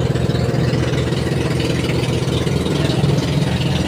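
A boat engine running slowly at sea in stiff wind, a steady close chugging drone with rhythmic knocking pulses, loud and alone without voices.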